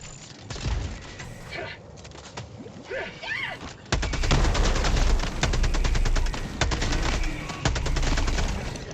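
Rapid bursts of gunfire from the shooter game Helldivers II, loud and dense, growing heavier partway through, with players talking over the shots.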